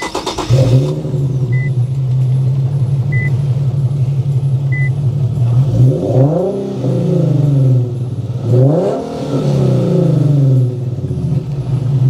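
An Infiniti Q50 with rattling catalytic converters idles with a deep, steady exhaust rumble, then is revved twice in quick surges that rise and fall, loud and close with no talking.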